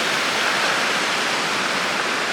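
A mountain river in snowy terrain rushes with a steady, dense roar of flowing water, close and constant throughout.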